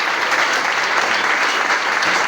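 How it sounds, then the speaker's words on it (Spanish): Church congregation applauds during a worship service, a thick, continuous wash of clapping at steady loudness with no break. "Iglesia, sígale aplaudiendo al Señor"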